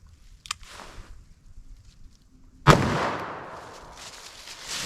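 A single sharp revolver shot firing a .38-44 load into a penetration test, loud and close, after a quiet stretch with faint shuffling, followed by a long decaying ring.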